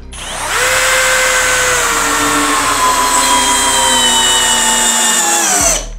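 A Bosch GSB 185-LI cordless drill drives a 5x16x70 hex screw: one loud, sustained motor whine at steady pitch for about five seconds, then it cuts off abruptly.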